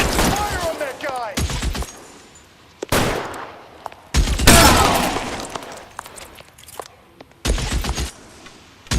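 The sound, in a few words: gunfire in the video game L.A. Noire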